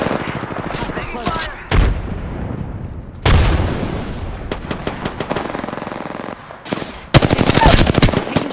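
Automatic weapons fire in sustained bursts during an Apex Legends firefight, with loud rapid rattling broken by brief pauses and a few heavier impacts, while game voice lines speak over the action.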